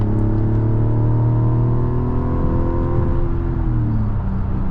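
A 2026 Mazda CX-90 Turbo SUV engine pulls hard under acceleration while passing, a steady loud interior drone with harmonic tones that rise and then settle.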